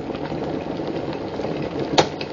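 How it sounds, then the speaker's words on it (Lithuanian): Water rolls at a full boil inside a Gamma SP-4703 electric kettle, a steady close rumbling hiss with a brief sharp knock near the end. "Ir štai tas momentas, kai vanduo verda."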